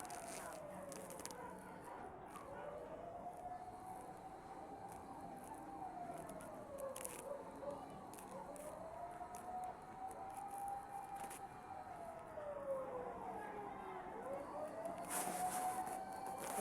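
Fire truck sirens wailing at a fire, rising and falling in long sweeping cycles from a moderate distance, with faint voices and street noise underneath.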